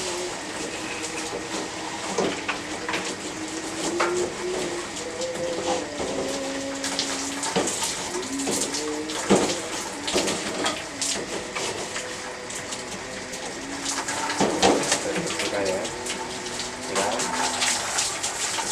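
Water rinses a rabbit cage in steady splashing and gushing bursts, fairly close, with scattered clatters and knocks of the cage as the flow moves across it.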